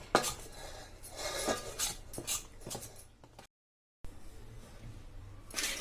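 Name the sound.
stirring masalas into paneer Manchurian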